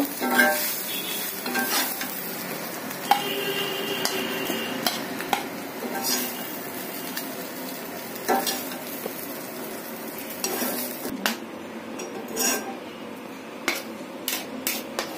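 Beef mash with onion is stirred in a hot pan, a steady frying sizzle running throughout with frequent scraping and clinking of a utensil against the pan, close and fairly loud, no voices.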